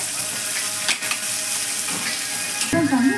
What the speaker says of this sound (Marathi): कांदा लालसर होईपर्यंत आपण ते परतून घ्यायचंय